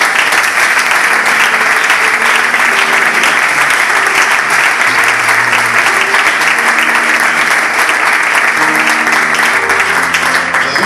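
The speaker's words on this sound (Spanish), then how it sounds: "Dale un fuerte aplauso al Señor" Loud, sustained applause from a church congregation fills the whole stretch, dense and steady from start to end, with no clear speech over it.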